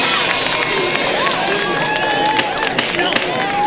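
Courtroom crowd in a French lesson sketch, a steady clamour of many voices murmuring and calling out together, with a few sharper shouts rising briefly above the dense babble.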